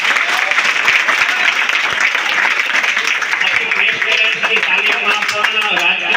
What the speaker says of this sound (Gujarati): એના માટે જોરદાર તાળીઓ.